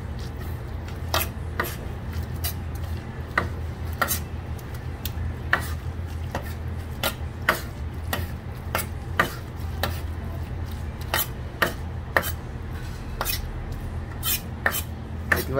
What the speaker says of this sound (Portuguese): Misturar aqui, creme cheese.